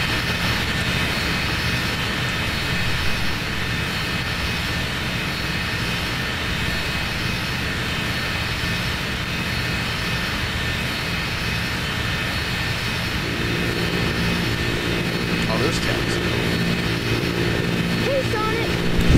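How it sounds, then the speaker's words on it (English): A plane flies in the game Sonic Adventure DX, a constant broad engine drone holding steady for nearly twenty seconds, with a few faint game blips near the end. "This is your third plane, Tails."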